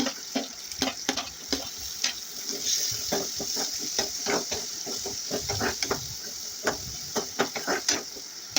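Shallots sautéing in a pan, with a constant sizzle broken by repeated sharp scraping taps from a spatula at an irregular rhythm.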